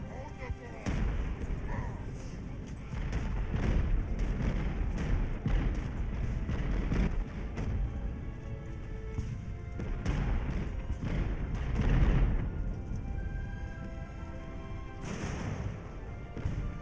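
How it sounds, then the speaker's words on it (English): Cannon fire from a sailing-era battle in the naval strategy game Ultimate Admiral: Age of Sail, a run of dull thumping booms of varying loudness over a busy battle din, with speech now and then. "Cannons do not seem to be hitting these guys."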